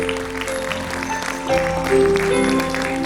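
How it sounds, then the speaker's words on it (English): Audience applause at an Independence Day celebration: a steady wash of clapping with sustained musical tones beneath it, swelling louder about halfway through and holding to the end. "He deserves a huge round of applause."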